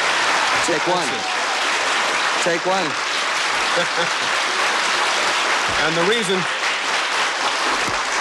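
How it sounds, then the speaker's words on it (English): Studio audience at a 1973 taping of the game show I've Got a Secret bursts into steady applause, rising and holding across the stretch while a voice speaks briefly over it. "the reason the audience applauded is every time Michael said take one, he was taking a picture of them"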